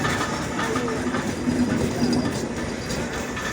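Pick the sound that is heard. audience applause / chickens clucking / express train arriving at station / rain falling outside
express train arriving at station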